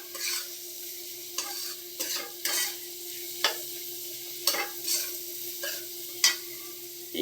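Pea ghugni masala being stirred and fried in a wok, a steady sizzle broken by repeated scraping strokes of the spoon at irregular intervals, close and moderately loud with no talking.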